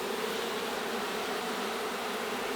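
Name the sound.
drone honey bee buzzing near the hive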